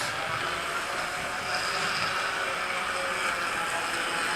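A noisy model railway train runs steadily, giving a continuous whirring, rumbling hiss at fairly low volume with no breaks or voices.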